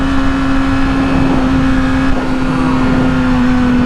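A 2016 Yamaha R6 sport motorcycle's engine drones loud and steady at high revs, a constant close whine with rushing wind from riding, with no clear rise or fall in pitch.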